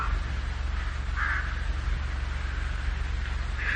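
Crows caw outdoors, two or three short harsh calls at a moderate distance over a constant low rumble of wind and background noise, with no voices.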